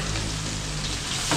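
Garlic and onion sautéing for catering dishes, a loud continuous sizzle close to the pan with a brief stirring shift near the end, no voices.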